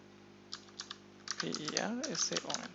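Keys clack on a computer keyboard as a command is typed, a few isolated taps followed by a quicker run of keystrokes while someone speaks over them.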